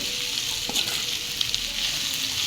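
Ginger sizzling in hot oil in a home Bengali cooking pan, a loud, steady close-up hiss and crackle with a few brief stirring clinks and no talking.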